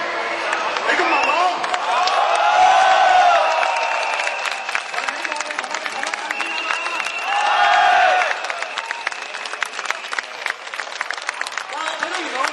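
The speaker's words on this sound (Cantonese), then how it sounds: "我哋俾啲歡呼聲" A crowd cheers during the July 1 street protest march in Hong Kong, with two swells of cheering rising behind a close voice that talks over the noise.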